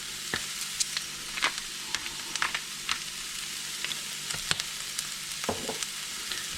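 Onions frying in a pan with a little pepper, a continuous close sizzle punctuated by frequent scraping clicks and taps of a spoon stirring against the pan.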